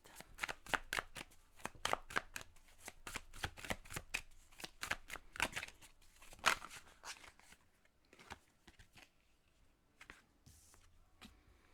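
Tarot cards are shuffled close up in rapid, riffling bursts of crisp slaps and flutters, then slow to a few scattered flicks. No voices are heard.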